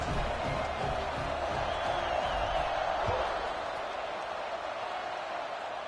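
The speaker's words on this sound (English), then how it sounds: "this crowd now ready to get behind them" A football stadium crowd at an Oregon vs Michigan State game roars steadily as the kickoff approaches, a dense, sustained cheer with a brief thud partway through.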